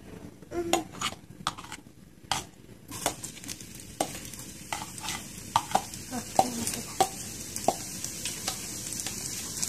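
Garlic being added to a pan of bean sprouts as they cook, giving a steady soft sizzle broken by repeated sharp clicks and scrapes of a utensil against the pan, close by with no talking.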